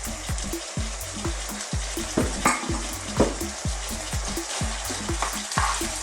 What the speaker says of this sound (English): Now I'm going to add some onions and garlic